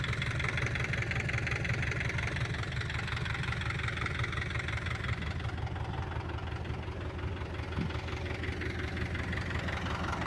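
A YuMZ 8280 tractor drives along a gully during spring field cultivation, its diesel engine chugging in a steady, loud low rumble from start to finish with no talking.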